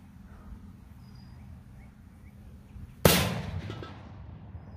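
A single sharp, loud blast from a 12 gauge shotgun firing a 726 grain copper slug at 1600 fps outdoors, ringing out and fading over a second after quiet ambience.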